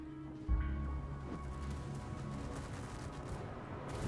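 A dense barrage of airstrikes and gunfire fills a video game battle, with a heavy boom near the start followed by continuous rumbling explosions and crackling shots.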